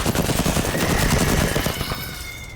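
Loud, sustained burst of AK rifle fire in a video game, rapid shots running together close up with no talking.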